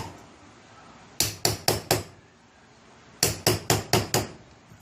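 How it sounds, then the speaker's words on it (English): Two quick series of light metallic small-hammer taps on a Gold Wing motorcycle starter, five strikes each, evenly spaced with a short pause between the groups. "No big hammer tap, little hammer tap."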